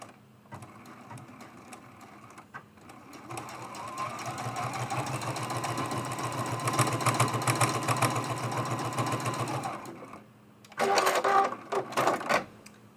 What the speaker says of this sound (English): I'm going to sew right down this middle.